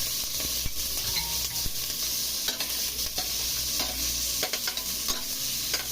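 Garlic, cabbage and sweet potato sauté in a hot pan, giving a loud, steady sizzle with spattering bursts and occasional stirring scrapes throughout.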